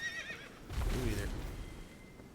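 A horse in the video game Elden Ring lets out a whinny with snorting and hoof sounds, fairly faint, with someone talking around it.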